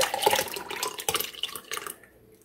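Almond milk poured into a DASH ice cream maker, a steady liquid splashing and trickling for about two seconds, close and fairly quiet, tapering off at the end.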